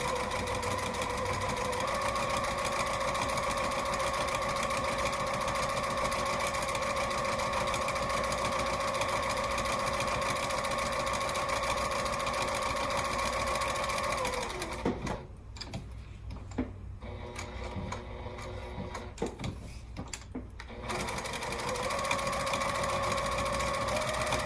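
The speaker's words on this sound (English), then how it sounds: "I'm going to stitch across the short edge, down the open edge, and then add one more row of stitching on that opposite side." A sewing machine stitches the strap ties of a tote bag with a steady, fast mechanical whir close by, then stops briefly for several seconds before running again at the same pace.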